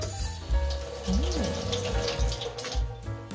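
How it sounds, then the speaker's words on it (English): Running water splashes and gurgles as homebrew beer bottles are washed and sanitized with a bottle washer at a sink, a steady close flow with small knocks and a low hum underneath. "we're just washing and sanitizing the bottles. It's got this nice little bottle washer."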